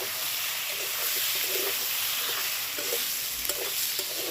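Spices and coriander leaves fry in a pan for a bhetki fish-bone chorchori, a dense continuous sizzle with soft scraping stir strokes close by and no talk.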